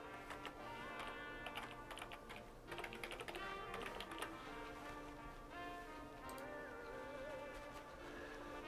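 Someone types an email address on a computer keyboard, the keystrokes soft and fairly steady beneath a constant bed of background music.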